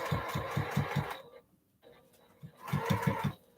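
A sewing machine stitches fabric in two short bursts of quick, even pulsing, separated by a brief quiet pause, close and moderately loud.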